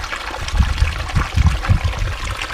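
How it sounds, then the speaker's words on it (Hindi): Rainwater runs off a flooded farm field planted with tomatoes in Khunti, Jharkhand, a steady close trickle and gurgle of flowing water with soft irregular splashes, heard alone without talk. "खेत का पानी यहाँ बह जा रहा है"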